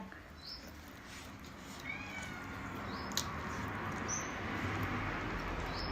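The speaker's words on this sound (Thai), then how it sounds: "มีเสียงแมว" A cat meows a few times, short and fairly close, over a steady background hiss with occasional faint voices.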